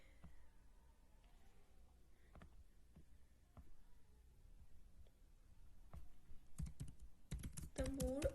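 Keyboard typing at a desk during a Hindi-English logic lesson on categorical syllogisms: soft, scattered key taps through most of the stretch, turning into a denser, louder burst of keystrokes near the end.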